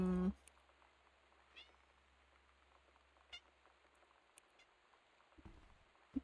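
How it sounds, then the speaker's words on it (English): A pet cat meows at close range in a quiet room, one loud call at the start and another near the end, with faint small taps and rustles in between. "My cat is meowing very loudly at my feet."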